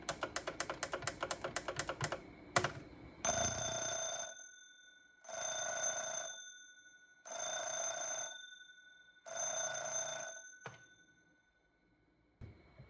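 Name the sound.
mechanical bell alarm of clock radio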